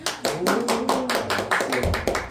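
A church congregation claps in a brisk, even rhythm, a steady run of close, sharp hand claps with no talking over it.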